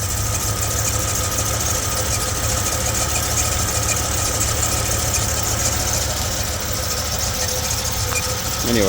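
A 1954 Chrysler New Yorker Deluxe with a 331 Hemi engine idles with a steady, loud, low rumble and faint knocking that holds unchanged from start to finish.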